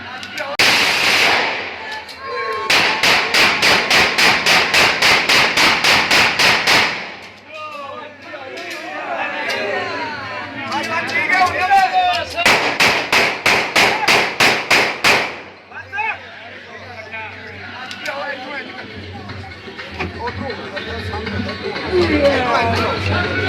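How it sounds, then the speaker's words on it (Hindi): Rapid gunfire crackles in two long sustained bursts in an outdoor area in Sheikhupura, loud and close, separated and followed by shouting voices and crowd commotion. "इलाका गोलियों की थरथराहट से गूंज उठा"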